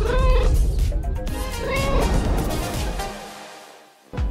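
A kitten meows several times up close, its cries rising and falling over a brief rustling background, with a small knock near the end.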